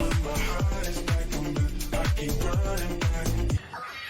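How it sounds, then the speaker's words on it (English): In the Der Riese zombies video game, a monkey bomb thrown into a furnace gives a rapid series of about nine shrill, falling cries that repeat steadily over music before cutting off abruptly near the end. "throw a monkey bomb in the furnace and hear the animal cry and scream, and then Samantha crying about the monkey"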